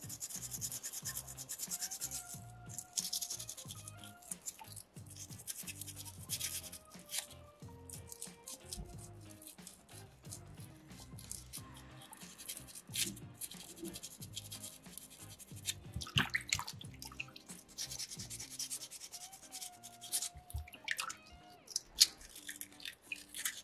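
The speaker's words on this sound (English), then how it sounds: "quite a bit thicker piece of sandpaper there, so really going to help dig into that corner" Thick, folded sandpaper scrubs a soapstone fish carving, digging into a corner of the tail in short, uneven rubbing strokes that come and go up close, with no talk.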